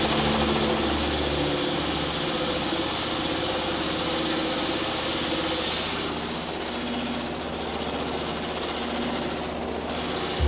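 An old, worn motor-driven mill grinding corn into maize flour runs with a loud, steady mechanical drone and rapid rattling vibration that continues throughout, easing slightly in the second half.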